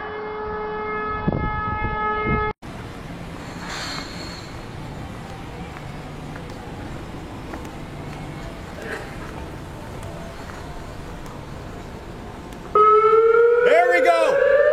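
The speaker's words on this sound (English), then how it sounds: "There's the siren. There it is. It's a little bit late." A warning siren like a tornado siren drones steadily in the background for most of the stretch, then rises loud and wailing near the end.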